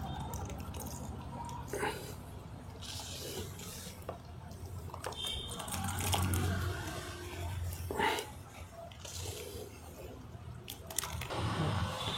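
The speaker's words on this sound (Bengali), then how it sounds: "এইভাবে হাতে আপনারা নিচড়ে এইভাবে কোকোপিটটি বের করে নিতে পারেন জল ছেঁকে" Soaked coco peat wrung out by hand makes faint, close squishing and wet squelches with trickling drips of water, repeating in uneven bursts.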